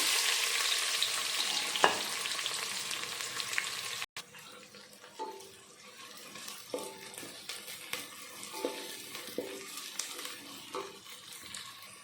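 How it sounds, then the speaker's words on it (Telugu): Large onion pieces frying in oil with crackled seasoning spices, a steady sizzle, then quieter sizzling under scattered clacks of a spoon stirring the pan. "ఉల్లిపాయ ముక్కలు కొద్దిగా రంగు మారేంత వరకు బాగా వేపుకోవాలి"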